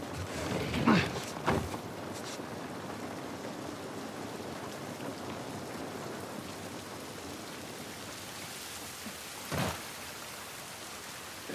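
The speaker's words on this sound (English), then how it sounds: "This rain ain't gonna do us any good." Steady broadband rain hiss fills the scene in The Last of Us Part 1, continuous and fairly close, with a few brief louder bursts near the start and one sharp transient near the end.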